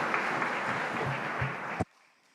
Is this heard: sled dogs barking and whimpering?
no